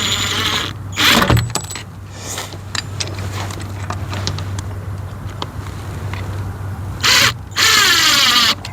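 A screw driven in to mount a Gardenreet directional landscape spotlight, with loud bursts of power-driver whirring and ratcheting at the start and near the end, and a lower mechanical hum between them.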